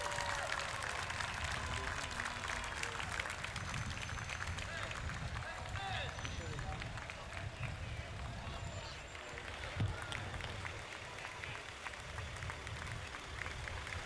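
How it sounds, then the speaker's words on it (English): A crowd lining the Armed Forces Day parade in Torrance, California, claps and cheers in a steady outdoor wash of applause, with a voice talking over it. "let's send him off with a round of applause"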